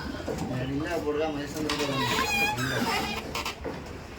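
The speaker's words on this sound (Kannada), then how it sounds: "ನೋಡಿ ಅಕ್ಕಿ" Pigeons coo in their nest boxes in a loft, soft throaty burbling calls repeating close by while someone talks over them.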